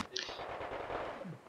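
Rapid machine gun fire from a 2v2 team video game match rattles in a dense, continuous burst that lasts the whole moment at steady loudness.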